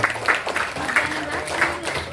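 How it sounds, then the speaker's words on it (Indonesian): Audience clapping at a neighborhood quiz competition held for an Indonesian Independence Day celebration: a steady, moderately loud patter of many hands that continues throughout, with a voice speaking over it. "Kita berikan aplaus untuk semuanya."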